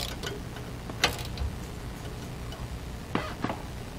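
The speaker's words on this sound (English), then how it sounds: "So we're gonna tighten them down with our 18 millimeter socket or wrench." Socket wrench tightening lug nuts on a trailer with Dexter electric brakes, a few sparse metallic clicks and taps over a low background hum, close and fairly quiet.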